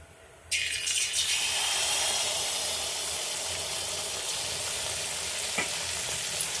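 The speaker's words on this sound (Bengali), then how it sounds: "এবার আমি ভাজবো" Malpua batter, a ladleful dropped into hot oil over a medium-low flame, bursts into a loud steady sizzle and keeps frying alone with a faint scrape near the end.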